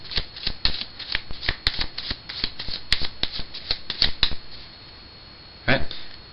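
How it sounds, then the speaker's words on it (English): A deck of playing cards is given an overhand shuffle, heard as a quick, even run of crisp slaps and snaps, then a pause and one final burst. "Nice simple overhand shuffle."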